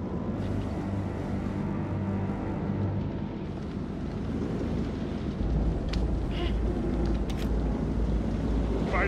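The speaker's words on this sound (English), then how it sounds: "Find out how long the storm is gonna last." A thunderstorm at sea aboard a ship in the video game Man of Medan: a continuous low rumble with rolling wind and water noise. It swells louder midway, with a few brief higher crackles near the end.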